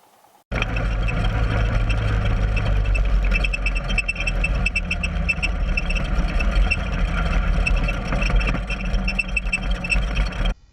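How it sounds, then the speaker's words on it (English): A motorbike engine hums steadily and close at a constant pace on a steep, red-dirt jungle mountain road on Son Tra Mountain in Vietnam, with no voices and a mechanical whine on top. "What more could you want from a motorbike ride?"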